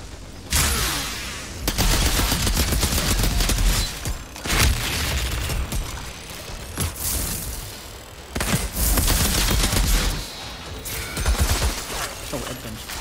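Heavy gunfire from the video game Outriders, dense bursts of shots and booms that come in loud waves with brief lulls between them.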